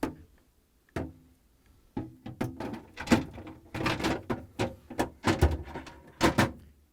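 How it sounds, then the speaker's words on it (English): The drawers of a GE refrigerator roll in on their rails and the doors are shut, giving a run of clunks, clicks and rattling knocks that grow busier and closer over several seconds. "I'm going to place the rear rollers on the rails, and I'm going to push it in."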